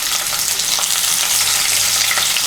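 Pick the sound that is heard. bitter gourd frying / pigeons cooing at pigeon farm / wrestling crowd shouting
bitter gourd frying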